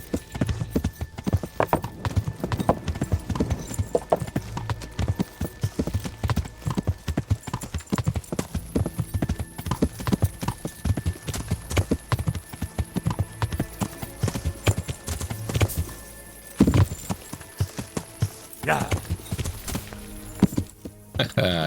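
Horse hooves clip-clop at a steady walking pace in the medieval video game Kingdom Come: Deliverance. The hoofbeats sound close and rhythmic over ambient game sound, with a brief pause partway through.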